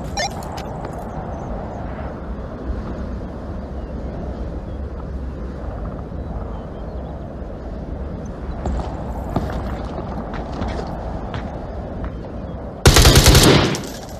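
Rapid automatic gunfire and scattered shots ring out in the VR shooter Onward on the Downfall map, a steady clatter of distant fire ending in a loud close burst.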